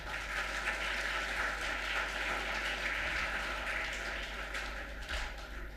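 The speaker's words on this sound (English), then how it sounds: "You guys should first clap for yourself." Audience applause at a school science and technology fest, a steady wash of clapping that stays fairly even and moderately loud throughout, fading slightly toward the end, with no one talking over it.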